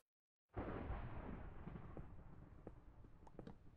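Thunder in Minecraft: after half a second of silence, a loud rolling rumble bursts in and keeps booming and crackling for several seconds, with no one talking.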